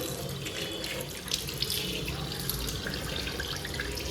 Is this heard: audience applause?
no